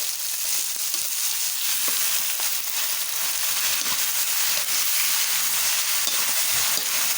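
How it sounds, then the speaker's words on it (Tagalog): Food being stirred in a pan, with a steady dry scraping and sizzling texture continuing throughout, close and moderately loud with no voices. "Haluin lang natin ng konti."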